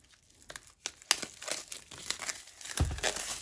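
Plastic wrapping on an album is pulled off, giving close, loud crinkling and tearing with sharp rustles that build toward the end. No one speaks.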